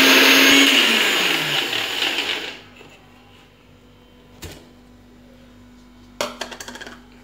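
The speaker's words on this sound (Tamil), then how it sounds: "இப்போ திருப்பியும் மறுபடியும் நம்ம அரைக்க ஆரம்பிச்சிடலாம்." A mixer grinder runs loud for about two seconds grinding ginger and garlic paste with rock salt, its whirring roar then cutting out, leaving a faint hum and a few light clatters toward the end.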